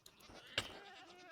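Minecraft goats give a couple of short, fairly faint bleats, one sharper cry near the middle standing out over a quiet background.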